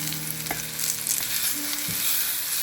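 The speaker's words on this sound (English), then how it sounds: "So I'll just toss them around in the pan." Ripe Orinoco bananas sizzle steadily in hot oil in a pan, with a few soft clinks and scrapes as they are tossed around; a continuous close frying hiss with no voices.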